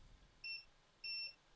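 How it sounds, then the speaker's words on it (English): A multimeter in continuity mode gives two short, clear electronic beeps about half a second apart against a quiet background while a repair technician checks a circuit board for shorts. "Let's put this into continuity mode, which is the mode that beeps."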